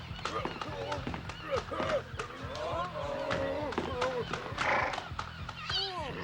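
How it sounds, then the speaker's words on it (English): A horse whinnies and snorts amid hoof clatter and movement, with voices talking over the scene throughout. "My horse thinks you need a bath, Captain."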